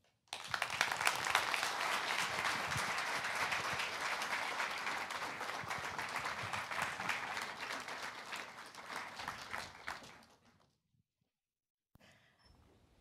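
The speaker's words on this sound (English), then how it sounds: "another round of applause, please" An audience at a NASA event applauds a speaker: about ten seconds of dense, steady clapping that fills the room, then cuts off sharply into near silence with a faint stir at the end.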